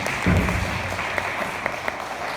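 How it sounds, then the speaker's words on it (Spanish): Audience applause at a church service, a steady wash of clapping under the room's reverb, with a thicker burst near the start before it settles into an even patter. "un fuerte aplauso para ellos"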